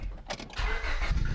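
A Honda Civic with a straight-piped exhaust cranks and fires up, a brief starter whir giving way to a loud, raspy idle close to the car.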